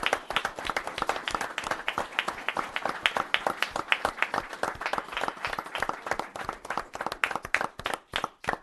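A town board meeting audience applauds the police honor guard with dense, lively clapping from many hands, close and steady, thinning into scattered individual claps near the end.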